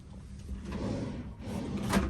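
Wooden drawers in a cruise ship balcony cabin on Royal Caribbean's Anthem of the Seas slide open and shut, producing soft rolling rumbles and light thumps close by, with no talk.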